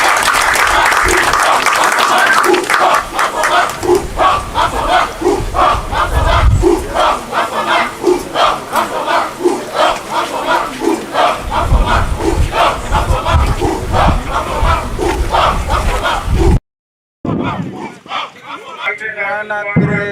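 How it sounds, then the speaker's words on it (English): A large outdoor crowd at a Ghana Army public demonstration, after an infantry platoon firepower display, claps and shouts loudly in a dense, continuous roar that briefly cuts out before resuming. "Shall we please give them a round of applause?"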